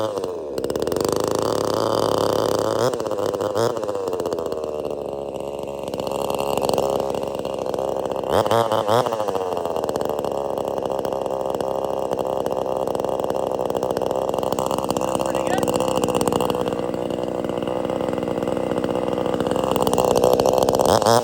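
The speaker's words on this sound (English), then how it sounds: "I'm gonna fire up one of these chainsaws" A chainsaw engine runs continuously for a long stretch, revving and idling with a loud buzzing drone close by and no speech.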